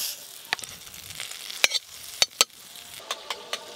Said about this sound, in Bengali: গরম কড়াতে বাটার দিয়ে দেব